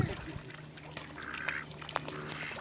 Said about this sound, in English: I feel sorry for that duck.